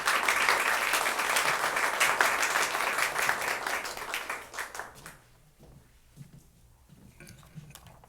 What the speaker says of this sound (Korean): 기대하는 마음으로 선교사님을 박수로 이 자리에 모시겠습니다.